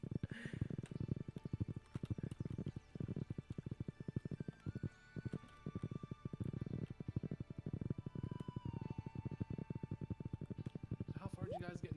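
Rapid horse hooves gallop in the Stardew Valley farming game, a fast, even clip-clop beat that runs loud and steady throughout, with people talking faintly underneath.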